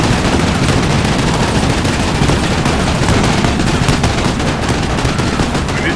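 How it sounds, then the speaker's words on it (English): Dense, continuous gunfire roars from a .50 caliber machine gun in the Combat Mission Final Blitzkrieg war game, loud and chaotic with overlapping bursts and no pauses. "we're actually taking quite a few casualties to the 50 cal."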